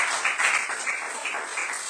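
Audience applause for the teams at a secondary schools debating competition semi-final at UWI: a brief, steady burst of many people clapping in a hall, fairly loud and continuous without talk.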